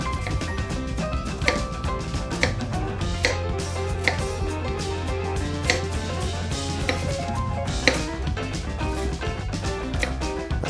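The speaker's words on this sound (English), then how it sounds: "That's a lot of onion to chop." A knife chops onion on a cutting board in a quick, steady run of sharp taps, heard over a continuous bed of music.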